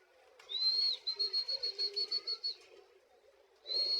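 Racing pigeons call near a loft while the birds fly home. A rapid series of short, high, whistling chirps comes close and clear, and one more drawn-out call follows after a brief pause.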